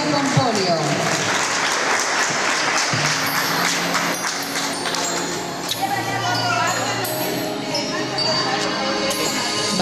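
Sustained audience applause at a sign language course diploma ceremony, a dense clapping wash throughout with voices mixed in.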